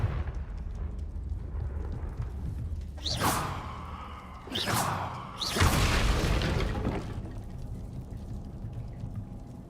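Confringo blasting spells from Hogwarts Legacy burst in three loud, booming explosions with whooshing tails over a low rumbling game backdrop, the last blast the longest and fullest.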